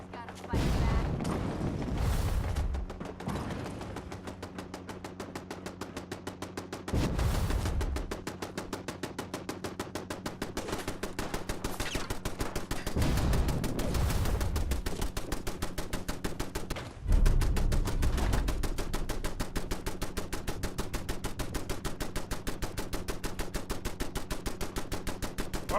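Sustained gunfire in Fallout 4 with a sniper attacking, rapid machine-gun bursts broken by heavy booming shots, loud and continuous throughout with occasional voices.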